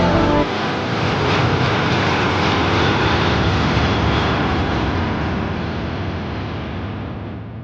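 An Air India Express jet arriving from Riyadh roars loudly through a go-around at Calicut Airport, its broad engine noise sustained and close, then slowly easing off toward the end with no voices.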